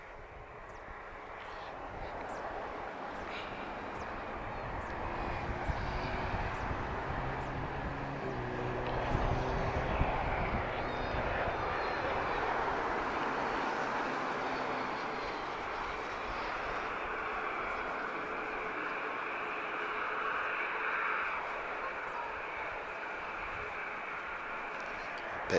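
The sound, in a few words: Cessna 680 Citation business jet arriving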